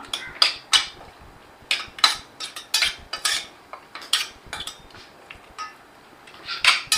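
Ginger garlic paste being mixed into mutton in a pan for mutton chukka: a spoon scrapes and clanks against the metal pan in sharp, irregular strokes, close and fairly loud, with no talking.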